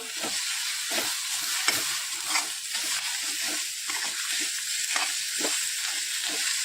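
A spoon stirs fresh coriander through a cooking pan of eggplant bharit, with a continuous loud hiss of sizzling and repeated scraping strokes at a steady pace, no talking.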